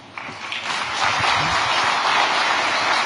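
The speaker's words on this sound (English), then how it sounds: "Please welcome him with a good round of applause." An audience at the APEC CEO Summit in Gyeongju breaks into a dense, steady round of applause welcoming a speaker, the clapping building quickly and holding evenly without talk.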